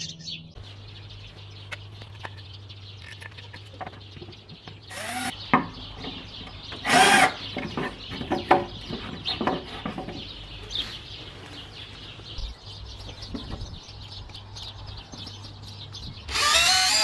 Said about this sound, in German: Die schrauben wir jetzt mal an unsere Stallwand.